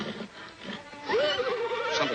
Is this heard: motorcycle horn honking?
no